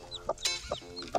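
A two-day-old silkie bantam chick gives several short high peeps in quick succession, close and fairly clear, with soft clucking from a hen underneath.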